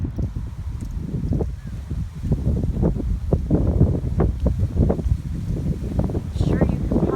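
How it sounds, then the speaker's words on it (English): Strong gusty wind in the aftermath of Hurricane Matthew buffets the microphone with a constant rumbling roar, while a person talks over it. "you can probably hear the wind"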